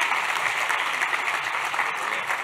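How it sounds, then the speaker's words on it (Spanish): A conference audience at eCommerce Day Santiago 2017 breaks into dense, sustained applause, an even roar of many hands clapping with no voices on top. "un gran aplauso para Cristian y Gabriel."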